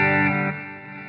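An electric guitar played through the bridge humbucker rings out as a distorted sustained chord, loud at first and slowly fading, with no talking.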